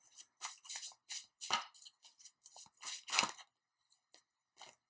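A deck of tarot cards being shuffled during a card reading, a run of crisp riffling bursts and short slaps spread over several seconds, close and fairly quiet, with no talking.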